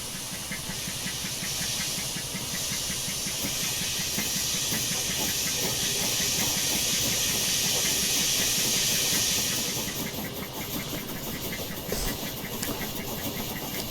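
In Train Simulator Classic, a WaysideWorks Decauville Type 1 0-4-0PT steam locomotive chuffs rhythmically under a loud, steady hiss of steam that drops away partway through, leaving the engine's beat alone.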